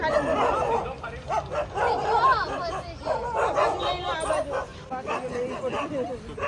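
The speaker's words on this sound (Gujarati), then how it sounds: "બહુ બધા કૂતરા છે ને" Many dogs bark and yip in a busy overlapping chorus at a farm stay near Gir, loud and close, with whimpers mixed in and people talking underneath throughout.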